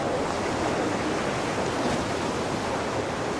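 Ocean surf at Bells Beach during a pro surfing contest, a steady broad roar of a breaking wave and whitewater that holds loud and even throughout, with no voices.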